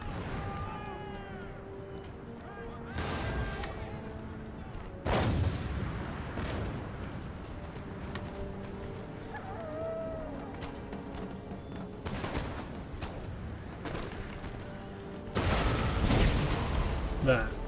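Cannons in Empire: Total War lob round shot at a fortress breach, heavy booming blasts landing at intervals, some near and loud, others distant, over a steady battle din and game music.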